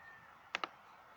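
Two quick, crisp computer mouse clicks in close succession, light and near, over a quiet hiss.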